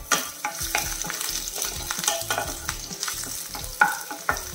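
Spinach with garlic and curry leaves being sautéed in a pan, a steady close sizzle broken by repeated scraping and stirring strokes, with no voice over it.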